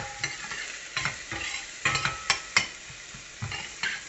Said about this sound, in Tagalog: gisahin po natin ang bawang at sibuyas